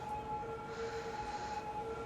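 A siren in a city-building video game gives off faint, steady, sustained tones above a low rumble. It runs continuously with no talking.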